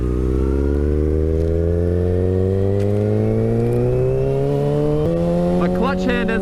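A sportbike pulls away in first gear, its engine note rising steadily in one long continuous climb, loud and close, ending with a sharp jump in pitch and some rattling near the end.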